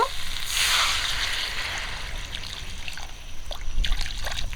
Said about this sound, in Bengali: জলটা একটু বেশি করে দিলাম সিদ্ধ করার জন্য